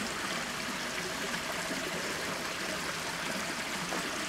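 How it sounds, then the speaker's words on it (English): A river near St Dyfnog's Church flows steadily with a continuous broadband rush and trickle, fairly close and even in level throughout, with no talking. "Nice lovely river."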